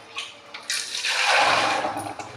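Tap water runs steadily while a small pepper and other vegetables are washed, a broad rushing splash that swells in the middle and stays fairly close, with no talking.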